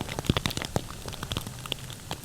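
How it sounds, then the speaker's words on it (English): Rain falls steadily outdoors near a food plot where deer come through, with a constant hiss and scattered sharper drops striking nearby surfaces in uneven taps. "It's raining, slating"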